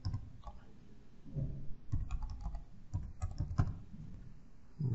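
A username and password are typed on a computer keyboard, close, irregular bursts of key clicks and thumps over several seconds with no talking.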